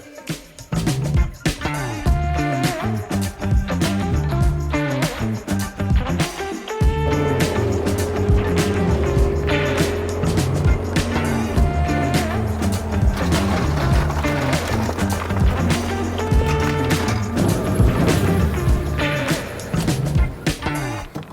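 A rented excavator dumps its last bucket of soil over rocks on a backyard golf course build, with a loud, steady engine drone and a hydraulic rumble that deepens partway through, close and continuous, with no speech.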